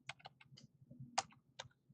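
Fingers typing a short file name on a computer keyboard, a quick irregular run of about a dozen crisp key clicks, close and fairly quiet.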